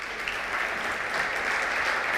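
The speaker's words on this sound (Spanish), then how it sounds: "¿Cuántos le dan un aplauso al Señor?" A church congregation at a Spanish-language service breaks into applause, a dense, continuous wash of many hands clapping at steady loudness with no voices over it.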